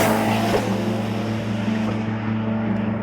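A Ferrari 12 Cilindri's 6.5-litre naturally aspirated V12 drones steadily and loudly with a strong low hum and a constant roar, revving little through the three seconds with no voices.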